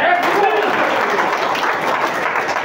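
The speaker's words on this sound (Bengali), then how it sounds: "জোরে একটা হাততালি।" An audience applauding loudly at a health talk, a dense steady wash of many hands clapping together, close and full, sustained throughout.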